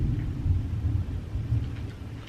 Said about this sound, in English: There's a pretty bad thunderstorm going on outside.